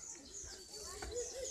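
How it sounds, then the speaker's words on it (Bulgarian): Pigeons or doves coo softly among exotic birds in a zoo aviary, with chirps and a brief flutter at middling distance over a low background hum. "Тук има разни екзотични птици."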